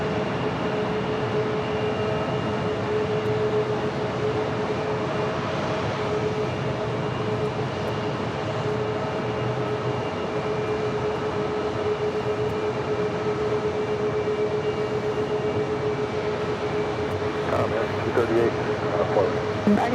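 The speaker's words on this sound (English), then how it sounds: "China Eastern, the 777-300ER, now about to touch down on 4 right." A China Eastern Boeing 777-300ER touches down on runway 4 right at JFK, heard as a steady broad jet roar with a constant engine whine, fairly distant and unchanging throughout.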